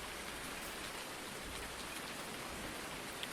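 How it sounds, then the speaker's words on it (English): Steady rain falls in Farming Simulator 19, a dense, even hiss of drops on surfaces that holds at a constant level throughout with no voices and no breaks. "today kind of feels like an all day kind of a rain"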